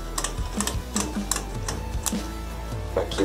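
Sharp metallic snips of heavy-duty scissors cutting through wire mesh lath on a wooden floor and wall being prepared for ceramic tile, several crisp clicks in an uneven rhythm, close and fairly loud with no talking.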